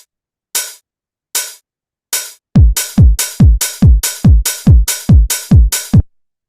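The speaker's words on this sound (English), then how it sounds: "So all unts, unts, unts is the kick and the hi-hat." Techno drum pattern from a Roland TR-909-style machine: a few crisp hi-hat hits alone, then a steady four-on-the-floor kick joins with offbeat hi-hats, about a dozen loud, punchy beats in even rhythm.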